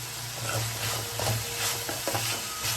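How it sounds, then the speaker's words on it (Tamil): Carrots, beans and capsicum sautéing in a pan for atta noodles, with a soft steady sizzle and irregular scraping stirs of a spatula, close and fairly quiet, no talk. "இப்போ இதோட கேப்சிகம் சேர்த்து நல்லா வதக்கிக்கலாம்"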